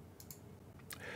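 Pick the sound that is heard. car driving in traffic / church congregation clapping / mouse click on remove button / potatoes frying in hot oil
mouse click on remove button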